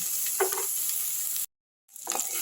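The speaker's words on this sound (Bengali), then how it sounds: "আবার আমি মশলাটাকে আর একটু কিছুক্ষণ কষে নিচ্ছি" Spice masala of ginger, garlic and onion with coriander and cumin powder sautéing in a pan, a soft continuous sizzle with a few faint stirring scrapes and a brief drop to silence midway.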